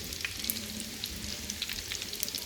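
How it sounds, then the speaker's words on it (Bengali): Potatoes frying in hot oil for a singi fish curry with potato and tomato, a steady close sizzle with crackling pops throughout and no voices. "সবার আগে আলুটা ভাজবো"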